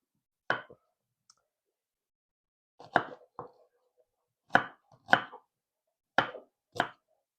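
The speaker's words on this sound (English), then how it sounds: "now these little tiny onions are what we pulled out of the garden the other day. And so I am just going to get these guys chopped up" Knife chopping small onions fresh from the garden on a cutting board, with short crisp thunks coming singly and in quick pairs, separated by silent gaps, fairly quiet and close.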